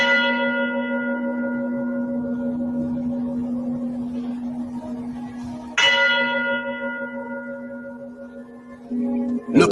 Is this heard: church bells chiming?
yes